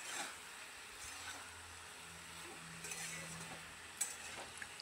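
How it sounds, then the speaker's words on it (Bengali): Drumstick vegetables tossed in a pan with spices and a ginger and green chili paste, giving a faint, steady sizzle under soft scraping stir strokes and an occasional light clink of a utensil. "সবজিগুলোকে ভালো করে নেড়ে চেড়ে নিচ্ছি"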